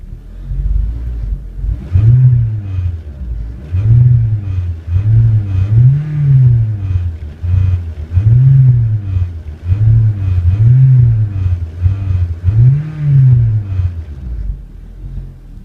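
A 2008 Honda Civic 1.8 engine with 74,040 miles revs repeatedly during a salvage-yard engine test, with about eight rising and falling throttle blips in a steady rhythm over a low idle rumble, loud and close, with no talk.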